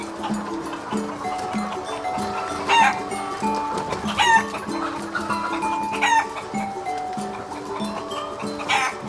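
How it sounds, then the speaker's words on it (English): Farmyard chickens cluck busily in a steady chatter while a rooster crows loudly several times, the calls overlapping and close by. "And here's the noisy chickens."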